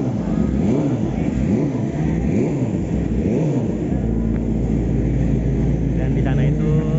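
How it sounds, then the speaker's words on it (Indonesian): Racing motorcycle engines rev and roar in repeated rising-falling sweeps in the World Superbike 2021 paddock at Mandalika, then settle into a steady loud exhaust drone nearby. "Mereka lagi pada ngetes motor yang dipakai. Ya. Dan dengar raungan knalpotnya."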